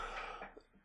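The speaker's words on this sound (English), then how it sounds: "Excuse my coughing, I'm so sorry." A single short, close, muffled cough, followed by a brief rasp of breath.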